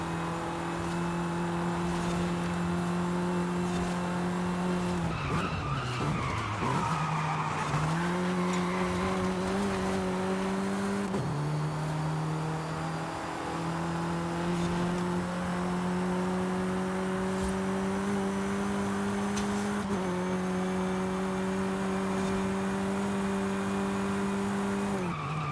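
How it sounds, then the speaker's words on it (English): Turbocharged car engine in Forza Horizon 5, droning steadily at near-constant revs with a brief dip and recovery around the middle, over tire skidding and squeal, with no talk. "Because from the sounds of it, the turbo is about to blow up."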